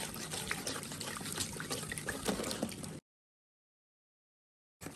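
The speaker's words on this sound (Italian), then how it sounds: "prima devo versare l'acqua, quindi 600 ml di acqua e verso all'interno il gesso." Water and plaster powder being poured together and mixed: a close trickle and splash of liquid runs for about three seconds, then cuts to silence, and a brief sound returns right at the end.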